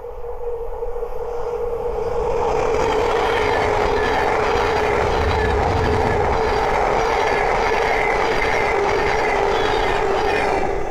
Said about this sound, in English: the next train to pass by is a Thames Lake 700